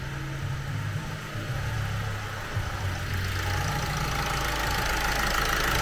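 A Vauxhall 1.6 CDTI diesel engine runs after a timing chain job, idling with a steady, slightly knocking clatter, close and even throughout with no talking.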